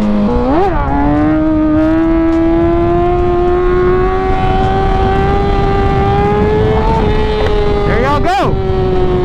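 A motorcycle revs and accelerates hard into a wheelie, its engine tone climbing steadily in one long, loud pull, with wind rush throughout and a sharp rev blip near the end.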